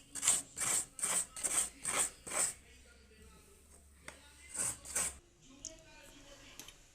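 Fresh coconut being grated by hand for a Bengali sweet, giving a run of about seven quick rasping scrapes in steady rhythm, then a pause and two more strokes, close and clear with no talk over it.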